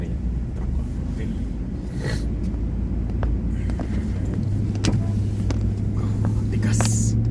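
A pickup truck's engine runs at a steady low rumble in cold weather as it pulls away, a continuous close drone with faint talk over it.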